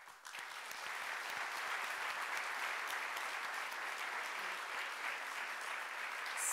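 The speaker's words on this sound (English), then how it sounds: "I know he heard your applause." A large audience claps steadily for an executive vice president at a university convocation ceremony, a dense, sustained wash of applause lasting several seconds without voices.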